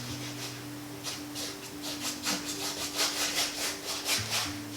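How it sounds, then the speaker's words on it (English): A paintbrush scrubs back and forth across a painting in a quiet run of soft, rhythmic rasping strokes that come close together and grow slightly louder near the end, with no talking. "I like scrubbing it back and forth without anything in it."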